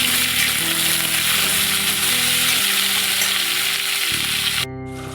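Moringa drumsticks are stirred and fried in a pan for aloo posto, giving a loud, continuous sizzle with a steady hum that cuts off abruptly at the end.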